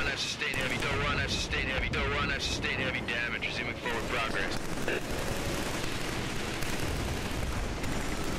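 Heavy machine gun fire in the Killzone 3 video game, dense bursts of sustained gunfire with explosive battlefield noise, loud and continuous, with players talking over it.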